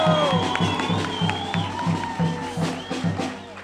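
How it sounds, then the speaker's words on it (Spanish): Crowd applause and cheering for council candidates at a Colombian political rally, a dense continuous clapping with whoops, fairly loud and sustained for several seconds, with a voice briefly audible over it. "Les pido por favor un fuerte aplauso para todos los candidatos al Consejo."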